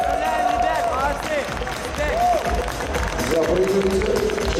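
Crowd applause and cheering for a Dota team at an esports awards ceremony, a steady wash of clapping with an announcer's voice and crowd chatter mixed in.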